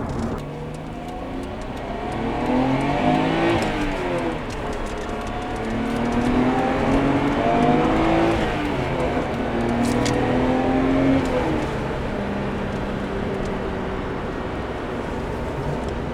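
A Nissan Skyline GT-R R32, not sounding stock, revs and pulls hard under acceleration, rising and falling in pitch over a steady road rumble, loud and close throughout.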